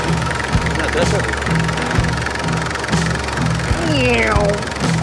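A tractor engine chugs while driving, a steady mid-pitched drone with a regular loping knock roughly every second, heard close with a voice talking over it.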